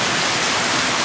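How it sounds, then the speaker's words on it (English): Heavy rain pouring down outside near a porch, a dense, steady, loud hiss of broadband noise with no breaks or distinct drops, filling the whole moment without any voices. "the rain's coming down really hard"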